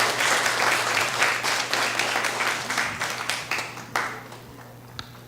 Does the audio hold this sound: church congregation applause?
yes